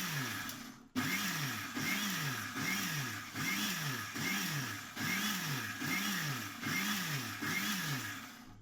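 A kitchen mixer grinder blends homemade mayonnaise in short, regular pulses, its motor whining up and down about once a second in a steady rhythm, close and fairly quiet, with no talking.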